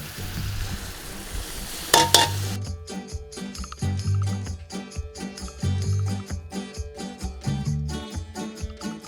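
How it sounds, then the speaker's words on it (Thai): Curry paste and coconut cream stir-fried in a pot for a Thai red curry with pumpkin and chicken give a brief burst of sizzling with stirring at first; then steady background music takes over. "ผัดเครื่องแกงให้มันเข้ากะทิ"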